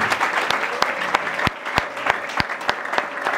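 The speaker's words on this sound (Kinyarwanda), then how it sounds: "reka dukomere Imana amashyi ku mushumba" A church congregation claps for its pastor in a steady, rhythmic unison beat of sharp, evenly spaced claps over a low murmur of the crowd.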